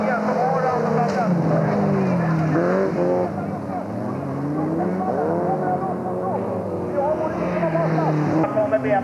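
Folkrace cars racing around a track at the Håga Pokalen event in Nynäshamn, including a BMW, with engines revving and shifting loudly and continuously over nine seconds under steady commentary.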